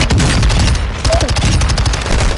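Rapid submachine gun fire rattles in a loud, steady automatic burst during a Warzone match, with brief voices mixed in.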